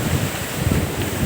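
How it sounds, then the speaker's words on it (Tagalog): Strong sea waves churn and wash against a fishing boat in rough weather, a loud, continuous roar with heavy wind buffeting the microphone and no voices. "Tingnan nyo, lakas ng alon mga koys"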